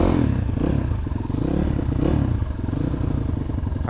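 A Gazgas GE 250 GZ2 motorcycle engine runs steadily on an off-road trail route up to Bromo, a close, continuous mid-pitched rumble with slight swells and rattly clatter throughout, no voices.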